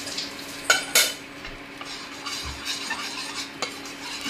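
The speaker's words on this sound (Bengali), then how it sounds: "এখন ভালো করে মিশিয়ে নেব।" Rice-starch papad batter tinted with food colour is stirred with a utensil in a bowl, giving a few brief scraping clinks near the start and soft, intermittent swishing afterwards, close and fairly quiet with no talking.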